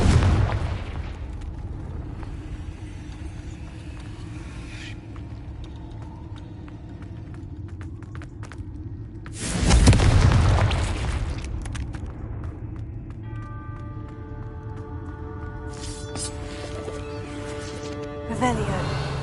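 Confringo blasting spell explosions in the video game Hogwarts Legacy: a low boom near the start and a loud, rumbling blast midway with a long decaying tail, then a softer hit at the end, under faint game ambience.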